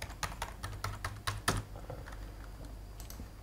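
Quick bursts of keystrokes on a computer keyboard while login details are entered for setting up an ESP32 board, clustered clicks in the first half and then sparser taps, close and fairly quiet with no talking.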